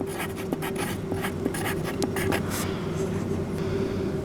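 A pen scratches out a short word on paper up close, several quick strokes with small taps and pauses, while a Teac A-6010 reel-to-reel deck sits on the bench being prepared for a recap, with a faint steady hum underneath.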